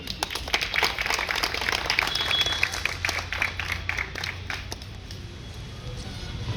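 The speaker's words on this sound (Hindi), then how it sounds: "ताली बजाते रहो।" Applause from a gathered crowd at a retirement celebration, many hands clapping in a dense continuous patter that gradually thins and softens toward the end, with faint voices underneath.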